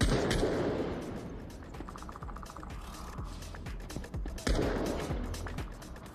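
Gunfire in a virtual reality shooter game, a series of shots with mechanical clicks, moderately loud over a busy game soundscape, with a louder burst near the end.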